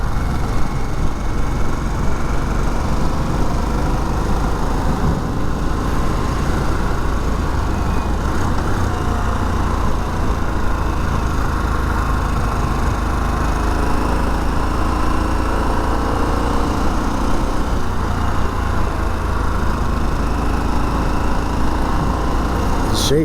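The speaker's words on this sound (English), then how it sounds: "You may be getting some wind noise, but that's because there's no windshield on this bike." A 2021 Harley-Davidson Sportster S being ridden without a windshield, a steady engine drone mixed with heavy rushing wind noise, loud and continuous throughout with no voices.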